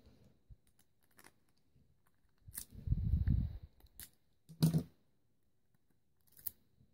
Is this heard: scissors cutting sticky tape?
yes